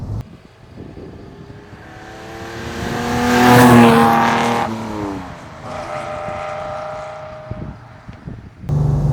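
A 1966 Ferrari 330 GTC with a 300 PS V12 engine drives past, its revving note rising to a loud peak mid-clip and then easing into a steadier drone.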